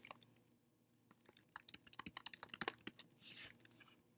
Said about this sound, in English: and then I will type Back to Class.